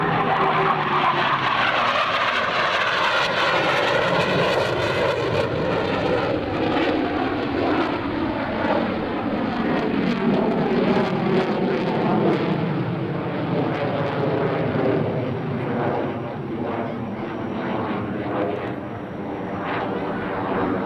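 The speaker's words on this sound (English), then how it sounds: "This demonstration illustrates the incredible pitch authority and vertical maneuverability of the Hornet." F/A-18C Hornet fighter jet flying an airshow demonstration at NAS Oceana in 2004, its loud continuous engine roar sweeping and shifting in pitch as it maneuvers, with no talk over it.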